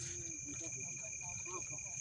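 Crickets chirp steadily as constant high thin tones through an outdoor area strewn with discarded clothes, with voices talking over them throughout.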